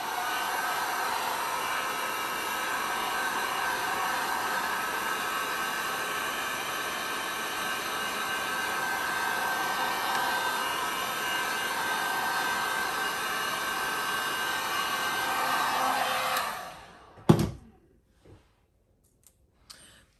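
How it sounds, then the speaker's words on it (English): A heat gun blows steadily on resin poured over a wooden serving board, a constant close whooshing hiss that runs for most of the clip before switching off with a click, followed by near silence. "I'm gonna heat gun this quick."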